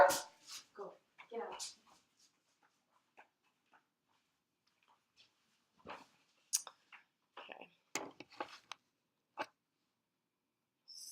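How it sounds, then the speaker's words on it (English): A small dog whines and yaps in short, scattered bursts that start loud and close, then come as sparse, fainter yelps and whimpers in a quiet indoor sewing room, with some talking mixed in. "I was just giving my little dog a little kick out of my sewing room because he's been whining all day."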